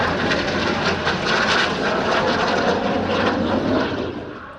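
An IAR-99 jet trainer flies at the BIAS 2019 airshow in Romania, giving a loud, steady roar that holds for several seconds and then begins to fade, with no voices.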